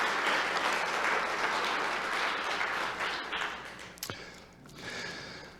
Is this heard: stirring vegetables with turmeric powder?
no